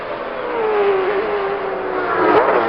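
Vintage Trans Am race cars lapping the Long Beach street circuit, an engine drone holding steady and then shifting pitch as a car passes close by, loud and continuous with no talk.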